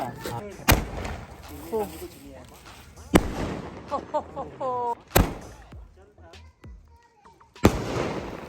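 A Diwali firework cake fires its 16 shots in India, heard here as four loud, sharp booming bursts spaced a few seconds apart, with excited voices talking and reacting between the blasts.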